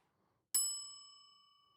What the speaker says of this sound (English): I gotta find another bell.